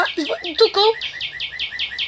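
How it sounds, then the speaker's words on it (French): Toco toucans chirp in a quick repeated series of high tweets, fairly close, after a brief moment of voices at the start. "On entend des oiseaux, justement."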